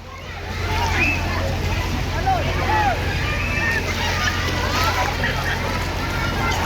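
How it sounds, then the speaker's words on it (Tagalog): Steady rushing water and sloshing waves fill the scene, a broad continuous wash with faint voices and bird-like calls in the background. "Lakas ng alon."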